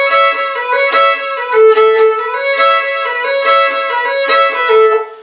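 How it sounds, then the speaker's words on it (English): Fiddle playing a Georgia Shuffle bowing pattern: smooth, rich bowed notes with a lilting repeated rhythm of slurs and accents, close and full, with no talking. "let's now look at the Georgia Shuffle, which is a slightly smoother shuffle."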